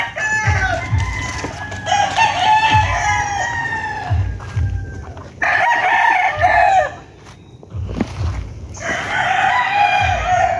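Several young roosters crow repeatedly and cluck nearby at a farm, the loud crows overlapping with lower clucking and barnyard noise in between.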